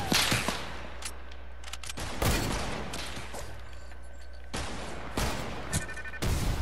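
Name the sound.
gunfire in a video game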